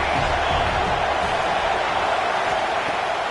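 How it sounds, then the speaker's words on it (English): Stadium crowd in the College Football 26 video game, a steady, loud roar of massed noise that holds throughout without any voices speaking. "This crowd bringing the energy and noise early."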